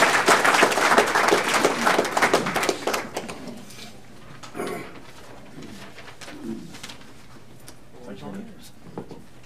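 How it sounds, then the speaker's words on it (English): An audience at a county chamber of commerce meeting applauds as a speaker comes up. Dense clapping from a room full of people is loud at first and fades over a few seconds, then a voice speaks over the quiet hall. "So glad you clapped now instead of afterwards"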